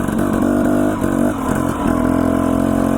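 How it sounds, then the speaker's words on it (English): A Husqvarna TE250 off-road motorcycle engine revs loud and close, a steady throaty drone with slight dips in pitch and no talking over it. "I'm riding the mighty Husqvarna TE250."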